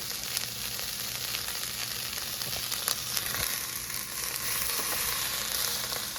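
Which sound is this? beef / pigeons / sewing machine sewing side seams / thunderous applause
beef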